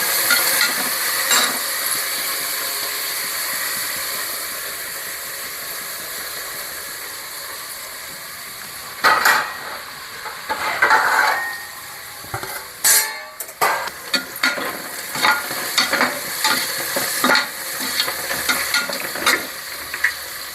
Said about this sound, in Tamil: இந்த நேரத்தில் நாம் கொஞ்சமாக புதினா, கொஞ்சம் கொத்தமல்லி போட்டு சேர்த்துக்கலாம். நல்லா வதக்கி விட்டுக்கலாம்.